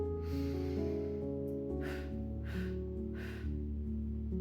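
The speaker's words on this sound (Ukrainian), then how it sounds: "Один короткий глибокий вдих через ніс і три коротких видиха через рот." Breathing exercise: one short deep inhale through the nose followed by three short, puffing exhales through the mouth, close and clear over a sustained musical backing.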